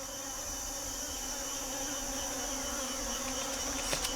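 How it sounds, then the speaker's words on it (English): Bees buzz steadily around a wild honeycomb in the forest, a faint continuous drone heard alone. "But the bees interfere with Gruber's experiment."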